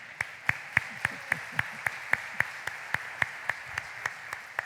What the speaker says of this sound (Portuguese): Vamos aplaudir o Senhor porque Ele comprou a aliança,